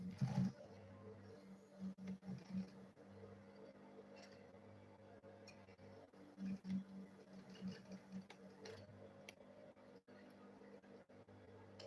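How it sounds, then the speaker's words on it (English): Sewing machine stitching the middle seam of a homemade school bag: a soft, steady mechanical hum with short bursts of rapid stitching, fairly quiet and close, with no talk over it. "then I'll go ahead and sew it."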